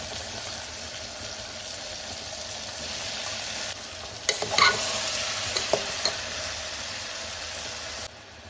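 Soya chunks (meal maker) and potato pieces frying and being stirred in a pan, with a steady sizzle throughout and brief clinks and scrapes of the spoon in the middle; no talking.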